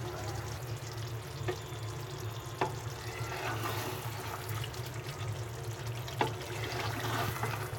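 Potatoes and eggplant fry in oil as aloo baingan cooks, giving a steady, soft sizzle with a few faint clicks and pops throughout and no voices.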